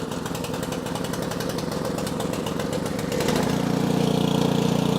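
A snow blower engine sputters into life after being primed and choked, then settles into a loud, steady, rattling run whose pitch drops and deepens partway through. The machine is close, with no voices over it.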